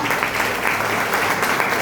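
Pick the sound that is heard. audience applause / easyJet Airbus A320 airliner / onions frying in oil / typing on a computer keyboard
audience applause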